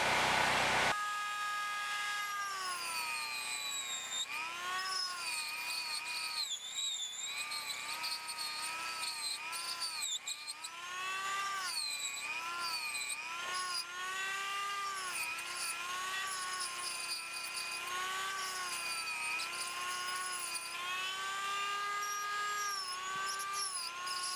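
A high-pitched rotary power tool with a ridged cylinder bit smooths a chainsawed wooden hawk or eagle carving, its whine rising and falling steadily with changing pressure, close and continuous.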